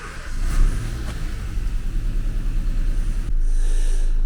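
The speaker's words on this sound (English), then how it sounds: "So let's start the engine first." Nissan Micra small car engine starts with a brief whirr and then runs in a low, steady rumble, close by and with a slight change in tone partway through.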